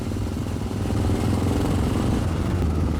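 Yamaha XT600E vintage air-cooled enduro motorcycle, about 40 horsepower, its single engine thumping steadily at low revs, close and loud with a rough mechanical clatter throughout.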